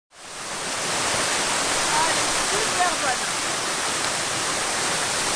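Shower water running, a steady close hiss of spray that rises quickly at the start and then continues evenly.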